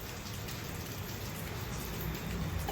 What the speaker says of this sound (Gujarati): હાર્દિક વરસાદ આવે છે ઘડી ખમી જા